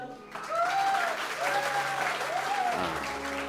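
Applause from a TV game show studio audience, moderate and fairly close, with a tonal musical or electronic sweep running over the clapping.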